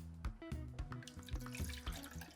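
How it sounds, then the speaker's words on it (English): Water is poured into the reservoir of a Technivorm coffee machine, a close, steady splashing and trickling with dripping spatters through about two seconds. "let's get some water in here"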